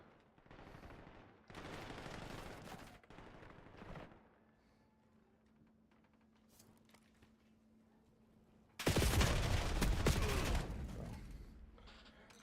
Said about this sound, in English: We're getting into full gunfights and not even getting shots on them.